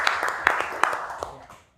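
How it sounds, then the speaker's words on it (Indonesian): A small crowd claps briefly at a crypto trading seminar, a few distinct hand claps standing out over scattered applause that quickly fades away. "Kasih tepuk tangan loh dari Surabaya."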